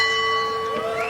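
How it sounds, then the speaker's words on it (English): At a women's world championship boxing match at the Austin, Texas Convention Center, the ring bell rings out with a sustained, bright metallic tone marking the end of round two, loud and steady with a faint crowd murmur beneath. "There's the bell. That's the end of round 2."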